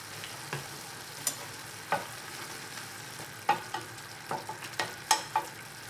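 Collard greens stir-frying in a pan with doenjang and sesame oil, a soft continuous sizzle broken by scattered clicks and scrapes of a utensil against the pan, close and quiet, with no talk.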